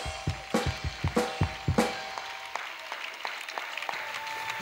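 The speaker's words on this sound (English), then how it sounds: "Acclamez très fort." Audience at an evangelistic gathering clapping loudly: a burst of distinct hand claps in quick succession at first, fading into softer, scattered applause over a few seconds.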